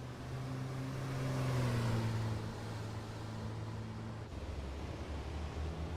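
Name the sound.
Scania T racing truck engine at Jarama, from a video game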